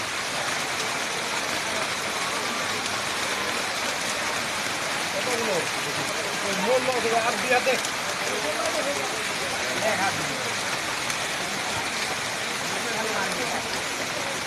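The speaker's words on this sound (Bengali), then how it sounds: "ঝড় বৃষ্টি তুফান চলছে দেখুন তালমা হাটের দিকে প্রচুর ঝড় বৃষ্টি ঝড় বৃষ্টি হচ্ছে" Heavy rain pours during a storm at Talma Hat in Jalpaiguri, a dense continuous roar of falling water with someone talking over it.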